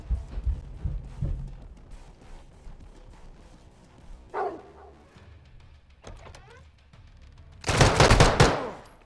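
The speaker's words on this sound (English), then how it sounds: "Cuidado con los disparos." Gunfire in Call of Duty: Modern Warfare II, with scattered muffled shots and game action building to a loud, dense burst of rapid fire near the end.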